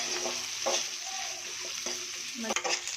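Cashew nut pieces and onion frying in a pan for upma, a steady sizzle broken by several scraping stirs, close and fairly loud with no talking.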